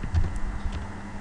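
A few quick keystrokes on a computer keyboard as a terminal command is typed in Ubuntu Linux, close and fairly faint, with soft clicks over low background hum.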